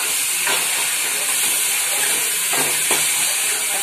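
Chopped tomato, finely minced in a chopper, going into frying onions for chicken keema: a steady loud sizzle and hiss throughout, with a couple of brief bursts as the tomato hits the hot pan.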